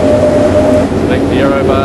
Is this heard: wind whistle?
yes